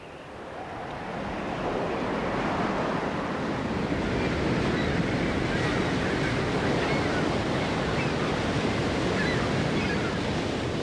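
Ocean waves of the South Atlantic at the southern tip of Africa near a river mouth, a steady loud roar of surf mixed with wind rushing across the microphone, continuous throughout without distinct breaks.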